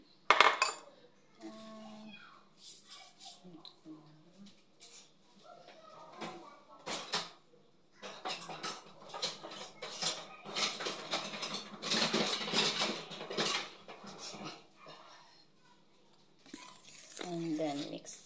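Muffin batter of apple, carrot and oats is stirred in a bowl, giving intermittent scraping, clinking utensil knocks and soft mixing noises, with a person talking at times.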